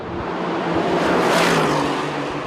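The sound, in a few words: sports car quad exhaust engine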